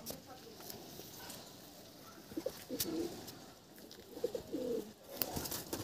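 Restless desi pigeons coo in a loft, soft throaty calls surfacing in short bursts around the middle and end, with steady background rustle and occasional knocks.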